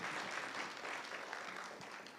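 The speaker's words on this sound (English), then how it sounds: "please give it a round of applause" Applause from a film festival member-night audience, steady and continuous across the short stretch without talk.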